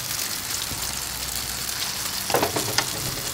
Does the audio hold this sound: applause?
no